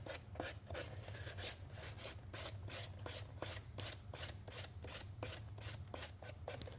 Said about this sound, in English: back over it one more time here and even that out once I get the sanding done